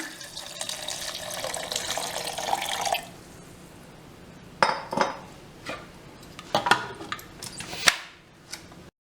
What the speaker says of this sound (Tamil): தண்ணி விட்டுக்கலாம்